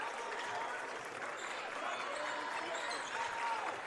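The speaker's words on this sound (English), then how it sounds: "Saints clapping along on the bench and with the JV team behind the bench." High school boys basketball game in a gym, bench players and crowd clapping along after a three-pointer, a dense continuous applause with a commentator talking over it.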